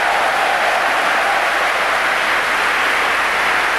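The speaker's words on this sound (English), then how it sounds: "Leeds deserve the applause they're getting" A football crowd at Leeds v Swindon Town in 1989-90 applauding Leeds at half-time, a dense, loud, unbroken wash of clapping and crowd noise.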